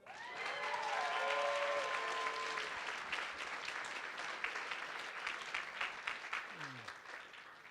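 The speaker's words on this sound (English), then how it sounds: "How about one more clap for Ryan and Stephanie?" Wedding reception guests for Ryan and Stephanie break into a burst of applause that swells quickly, holds, then thins into scattered claps, with a voice heard over it at the start and a brief whoop near the end.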